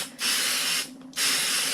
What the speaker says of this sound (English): So I'm going to use this basting adhesive, spray and bond.